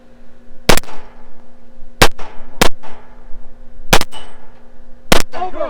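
Loud, sharp gunshots from a pistol on a practical shooting match stage, five separate cracks at uneven intervals, each followed by ringing steel and echoes in an open desert setting.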